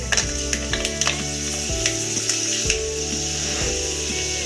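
Fenugreek seeds sizzle in hot oil for a fish gravy, giving a continuous bright crackling fry close by, punctuated by several quick, soft clatters of a spoon stirring the pan.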